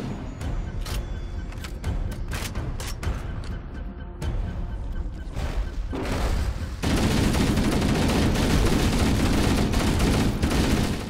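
Marines' assault rifles firing in the video game Halo Combat Evolved Anniversary, a dense continuous fusillade of rapid overlapping shots that swells louder in the second half, with no voices.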